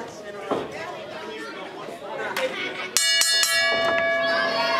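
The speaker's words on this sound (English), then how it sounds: "Scott Volk calls for the bell. We're underway" A ring bell clangs several times in quick succession to open a women's wrestling match between Debbie Kane and Deonna Purrazzo, ringing out loudly over steady crowd chatter in the arena.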